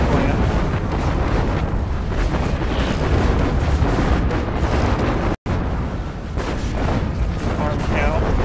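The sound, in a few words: artillery shellers firing in video game Planetary Annihilation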